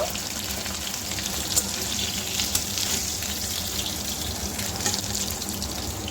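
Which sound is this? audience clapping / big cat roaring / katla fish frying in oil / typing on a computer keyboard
katla fish frying in oil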